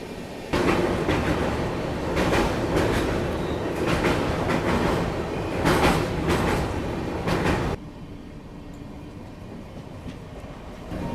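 The Varanasi Vande Bharat express crosses close by with a loud, continuous rumble and rhythmic wheel clatter for about seven seconds, then the noise drops away to a quieter background.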